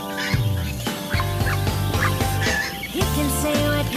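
Ducks and chickens on a Philippine farm raised for sale, with loud, repeated honking calls and clucks close by, alone and continuous.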